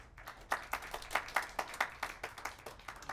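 At an academic conference session on Korean cultural content, a small audience claps for a presenter, distinct, fairly quiet claps in an uneven rhythm of roughly a dozen beats rather than a full roar.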